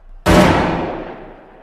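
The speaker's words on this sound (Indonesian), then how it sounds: "Dan tak lama kemudian terdengar suara tembakan." A single loud gunshot cracks sharply and then rings out in a long, fading echo; no voices.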